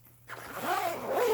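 A zipper on a backpack's mesh pocket is pulled in one close, continuous rasping stroke after a brief quiet moment.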